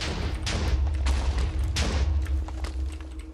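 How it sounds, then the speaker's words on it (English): Grenades going off in a Minecraft mod battle game: a rapid cluster of loud, punchy blasts with a rumbling low-end, several distinct bursts over a few seconds, close and forceful with no talking. "Throwing grenades."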